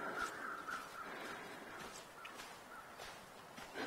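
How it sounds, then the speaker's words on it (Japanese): Crow cawing in the survival game The Long Dark, a few harsh repeated caws over a steady windy outdoor ambience, moderately distant, with faint footstep crunches. "あ、カラス。"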